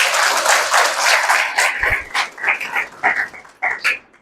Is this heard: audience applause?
yes